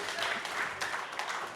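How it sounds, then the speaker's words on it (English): Audience at a hip-hop anniversary event with DJs applauding, a short burst of dense clapping and crowd noise close by, with a voice mixed in. "Y'all should be clapping for that, man."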